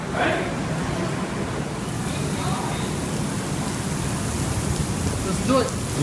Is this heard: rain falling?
yes